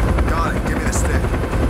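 A helicopter flies in Call of Duty Black Ops, a loud continuous rotor roar filling the whole stretch with faint game sounds and some voice mixed in.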